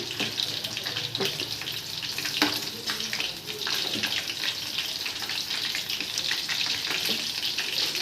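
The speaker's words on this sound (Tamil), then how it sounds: "அதை திருப்பியும் எண்ணெயில் போட்டு வறுக்கிறேன்" Prawns fry a second time in hot oil, a close, continuous sizzle and bubbling hiss with stirring clatter and scrapes, no voices.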